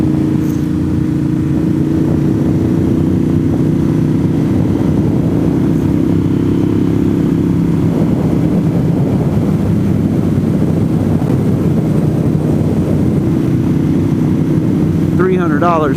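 A motorcycle ridden on new Michelin Pilot tires, with a loud, steady engine drone and wind rush throughout, up close.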